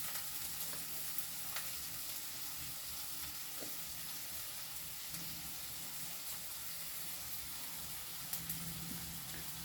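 Beans, carrots and capsicum frying in a pan for poha, a steady close sizzle and hiss running throughout, with occasional faint clicks of stirring.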